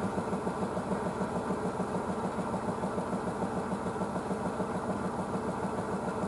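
Blomberg WNF9448 washing machine spinning its drum at 400 RPM: a steady, continuous mechanical hum with an even, rapid pulsing rhythm, moderately loud and unchanging throughout.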